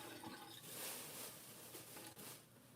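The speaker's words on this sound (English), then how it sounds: "This is my water filter." A home water filter gives off a continuous rushing, gurgling flow of water, heard close and fairly loud for a few seconds with no talking.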